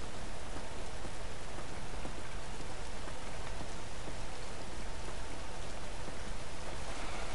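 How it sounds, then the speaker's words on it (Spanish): Steady, dense downpour in the video game The Last of Us, a continuous hiss of rain on surfaces with no pauses or voices. "La lluvia no nos afecta."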